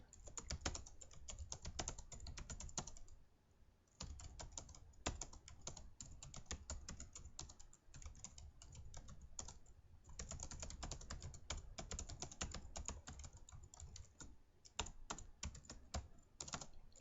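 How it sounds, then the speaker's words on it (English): Continuous typing on a computer keyboard, rapid irregular key clicks with brief pauses, close and quiet. "So let's just start typing it in."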